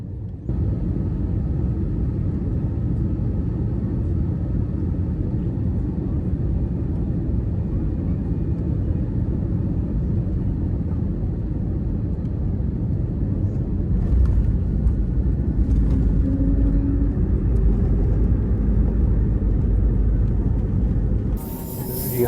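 A passenger airliner lands in Atlanta, heard from inside the cabin as a steady, heavy low rumble of engines and airflow, a rougher surge around touchdown, then a sudden drop in noise at the end.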